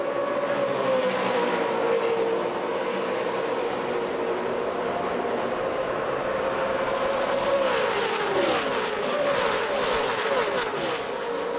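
Loud roar of a NASCAR Camping World Truck Series pack racing at Talladega at the start of the 2009 Mountain Dew 250, a dense wall of engine noise that swells as the trucks pull away together.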